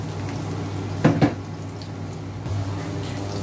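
Squash (kalabasa) being sautéed in a pan gives off a low steady sizzle, broken by two short clattering scrapes near the middle and a brief bump later.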